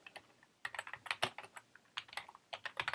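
Rapid bursts of keystrokes on a computer keyboard, tapped out in short irregular clusters with brief pauses between them, close up and with no one talking.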